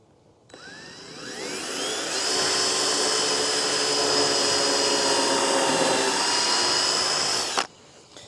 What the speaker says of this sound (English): I'm going to start by drilling a pilot hole right about here.